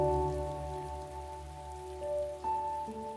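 Rain falls steadily in a television drama scene, an even hiss and patter that continues throughout, mixed beneath sustained soft musical tones, with no voices.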